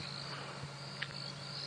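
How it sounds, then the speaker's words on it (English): Crickets and mole crickets chirp at night before sunrise in the bush on a safari drive: a steady, unbroken high trill with a low continuous drone beneath, moderately faint, no voices. "still the crickets, mole crickets,"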